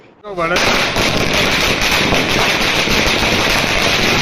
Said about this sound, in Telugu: టపాసులు కాల్చుతూ సంబరాలు చేసుకున్నారు